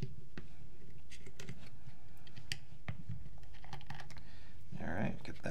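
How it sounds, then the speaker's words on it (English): Small sharp clicks and light metallic rattles come from close by as the grip screws are worked loose on an SP Shocker AMP paintball gun. The sounds are quiet and irregular, with no voices. "So let's get our grip screws off."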